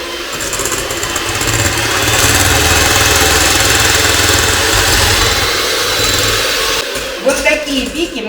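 An electric mixer whips cold cream in a home kitchen, a loud, steady motor whir that holds for several seconds before cutting off, followed by a brief clatter and a voice.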